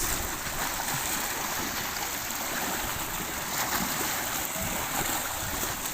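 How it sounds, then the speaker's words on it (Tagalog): Sea waves wash continuously at a beach under light rain, making a moderate, steady rushing wash with no breaks, at middle distance. "Medyo may kaalunan mga lods."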